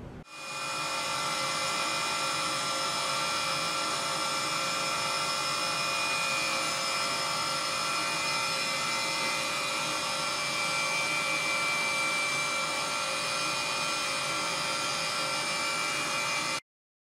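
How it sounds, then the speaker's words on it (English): A tool and cutter grinder grinds the pointed tip of a carbide electrode, producing a continuous high-pitched whine with a steady hum that runs unbroken for about sixteen seconds and then cuts off abruptly. "the small tip, the pointy tip, will be ground on the tool and cutter grinder."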